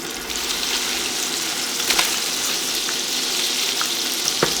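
Homemade gnocchi frying in a hot pan, a steady bright sizzle throughout with a few sharp pops and crackles, close up and fairly loud, no talking.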